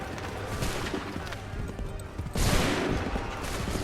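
Musket volley in Assassin's Creed 3, a broad burst of gunfire cracking out mid-clip over a busy battlefield din, with distant shots and clatter before it.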